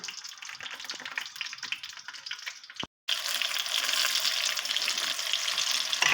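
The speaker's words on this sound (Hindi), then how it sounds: "अब जब एक साइड से बैंगन जो है वो फ्राई हो जाएंगे" Eggplant slices frying in a pan over medium heat, a close, dense sizzle with crackling that drops out abruptly for a moment midway, then returns a little louder and steady, with no voices.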